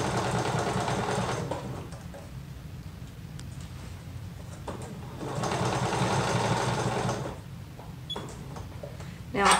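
A sewing machine stitches a liquid lamé shirt, its steady close motor hum running in two long bursts with a quieter pause between and faint ticks after, no talking.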